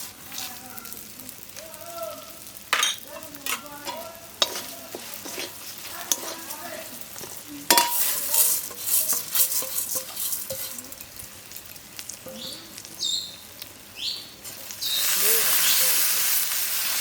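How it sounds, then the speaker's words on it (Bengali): Rice and lentils are stir-fried in a chili-powder spice masala for dal khichdi, with intermittent spatula scrapes and clinks against the pan over a low sizzle that rises to a loud, steady hiss at the end. "চাল ডালটা ভালো করে ভাজা ভাজা করে দিয়েছি।"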